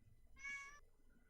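A pet cat gives a single clear meow of under half a second, close and moderately loud, with quiet room background before and after.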